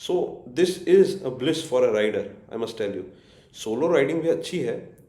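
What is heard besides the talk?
None of the usual background noises is heard.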